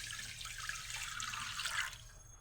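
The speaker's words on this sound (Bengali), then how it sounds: "পরিমাণ মতন জল দিয়ে দেব।" Water poured steadily into a cooking pot on a home stove, a continuous splashing, gurgling stream that runs close and fairly quiet for about two seconds before stopping abruptly.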